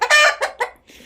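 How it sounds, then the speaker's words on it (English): A mature rooster gives a few loud, close clucks, one long call followed by two shorter ones, then falls quiet. "Here is a pure mature chicken, rooster."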